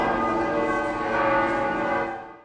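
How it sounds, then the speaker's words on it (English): The ancient Sperduta church bell rings at St. Mary Major Basilica in Rome, a single loud, rich, sustained toll with long ringing overtones that fades away at the end. "As the ancient Sperduta bell, long associated with the spirit of pilgrimage, rang"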